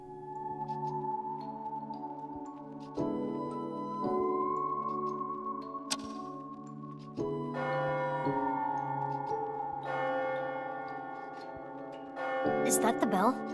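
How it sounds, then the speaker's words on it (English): A clock bell chimes midnight in ringing, sustained tones that repeat in several strokes over a steady musical backing, with no talking. "Is that the bell? The clock moved. Midnight."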